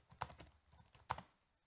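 Quiet typing on a computer keyboard: a few soft keystrokes in two small bursts, close and isolated, with no talking.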